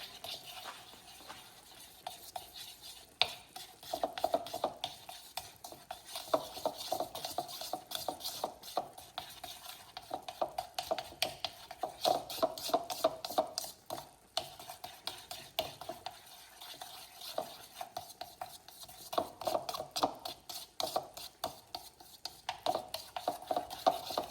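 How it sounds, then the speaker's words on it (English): Chopsticks stir ramen noodles in a pot, making quiet, close scraping and clicking strokes in an irregular, repeated rhythm over a faint background hiss. "take our chopsticks and stir that"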